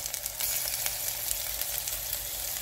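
Onion with ginger garlic paste frying in a pan, a steady close sizzle with faint crackles and no voices.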